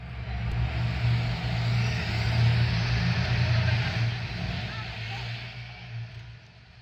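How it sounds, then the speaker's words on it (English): New York City street traffic in a travel clip: a steady rumble of passing vehicles with engine drone, loud and continuous, easing slightly toward the end. "I don't want to hear traffic noise in my show."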